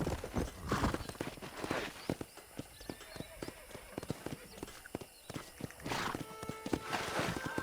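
Hooves clip-clop steadily at a walking pace in Red Dead Redemption 2 over a constant background bed, with a faint whinny and a brief voice partway through.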